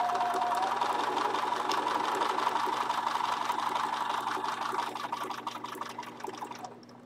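A Bernina sewing machine stitches an appliqué, a close, steady rapid mechanical whirr with a fixed hum that runs on evenly, then slows and stops near the end.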